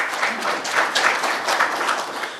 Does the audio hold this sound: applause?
yes